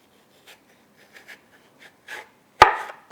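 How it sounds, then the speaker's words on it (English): A knife cutting apples into slices on a cutting board: a few faint, sparse taps and scrapes, then one sharp, loud chop followed by a brief rasping cut near the end. "now I have to cut these apples into slices, like this"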